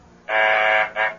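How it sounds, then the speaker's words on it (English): An apartment intercom phone buzzer rings from downstairs in a 1970s radio drama, one long loud electric buzz followed by a shorter second burst. "That's the phone buzzer from downstairs,"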